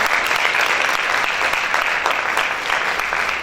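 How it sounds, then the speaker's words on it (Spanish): A church youth congregation applauds loudly, a dense, sustained roar of clapping from many hands filling the space throughout. "Vamos a aplaudir fuerte al Señor."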